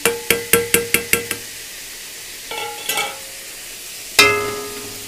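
A spoon stirring fried egg into khichuri in a metal pot, opening with a quick run of seven sharp taps against the rim, then softer scraping, and one final ringing knock, all close with no talk.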